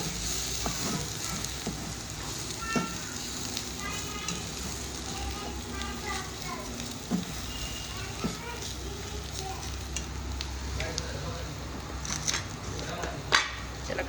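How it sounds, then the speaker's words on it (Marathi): Spices such as red chilli powder and turmeric sizzling and frying in hot oil in a pan while being stirred, a steady crackling hiss with occasional scrapes, under a speaking voice. "असं परतून घ्यायचं."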